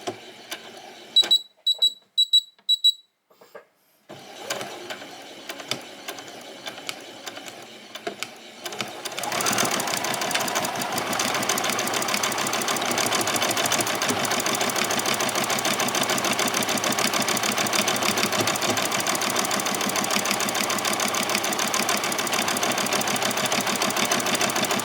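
A sewing machine stitches a buttonhole on a child's dress, starting with a few short beeps and stops, then settling into a steady, close, continuous mechanical whir that runs unbroken to the end.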